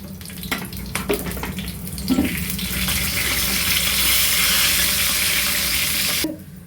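Dried red chillies drop into hot oil for a brinjal kosthu tempering, a few clinks and a splash, then a broad steady sizzle that holds for several seconds before cutting off, close and loud.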